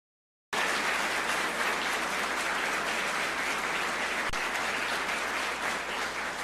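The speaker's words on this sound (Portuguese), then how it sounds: "Vamos aplaudir ao Senhor Jesus por isso." A church congregation breaks into dense, sustained applause that starts abruptly and holds at an even, loud level throughout, a wash of many hands clapping together.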